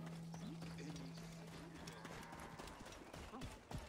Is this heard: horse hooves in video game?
yes